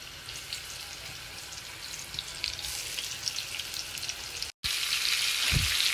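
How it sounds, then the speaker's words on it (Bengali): Pumpkin pieces sizzle steadily in hot oil in a frying pan, a close continuous frying hiss that briefly cuts out before returning louder and brighter. "এগুলো এখন ভাজবো।"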